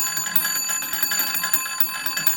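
An old household intercom's bells ring steadily and loudly with bright metallic, continuous trilling pulses, close up and alone.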